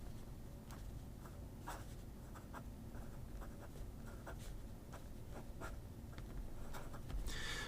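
A Pilot Custom 823 fountain pen with a 14 karat broad nib scratches softly across paper in faint close strokes, with small ticks and scrapes over a quiet room.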